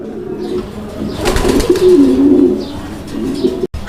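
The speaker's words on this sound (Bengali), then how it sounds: "আরো এক জোড়া কবুতরের কালেকশন রয়েছে এটা ডেনিশ কবুতরের একটা জোড়া হোয়াইট ডেনিশ" A pair of white Danish pigeons coos close by, low rolling calls pulsing through the middle of the clip over a steady background, with a brief thump near the end.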